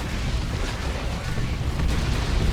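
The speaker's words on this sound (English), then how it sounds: "Big shot there on the war truck." A Venom Cannon shot strikes an ork war truck amid a Dawn of War 2 battle, a loud booming impact buried in a constant roar of explosions and weapon fire, with a commentator talking over it.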